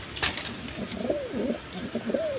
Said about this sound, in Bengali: বন্ধুগণ এখানে আরেক পেয়ার কবুতর আছে দেখেন